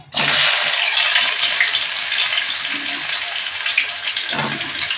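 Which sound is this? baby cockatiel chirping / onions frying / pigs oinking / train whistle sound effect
onions frying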